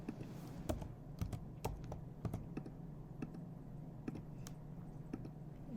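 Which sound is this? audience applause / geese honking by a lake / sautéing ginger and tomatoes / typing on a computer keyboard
typing on a computer keyboard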